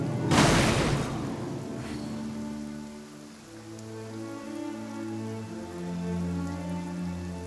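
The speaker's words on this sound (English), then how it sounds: "Taking a stroll in the middle of a downpour certainly rouses the spirit." Heavy downpour in a video game, a dense rush of rain on surfaces that swells at the start and then continues steadily beneath a low sustained tonal music bed.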